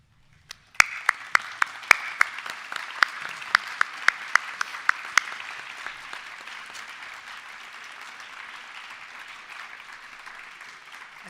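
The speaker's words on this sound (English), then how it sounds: "could I please ask all our graduates to stand for a minute and give your friends, family and staff a round of applause" Graduation ceremony audience at the Salford School of Arts, Media & Creative Technology bursts into applause; a few sharp, loud claps ring out first, then the sustained crowd clapping gradually thins out over about ten seconds.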